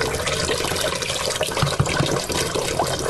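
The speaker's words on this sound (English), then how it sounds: "So I filled that pot up, I'd say, by half." Tap water pours steadily and loudly into a cooking pot, a dense, continuous splashing rush that fills the pot about halfway for cooking barley.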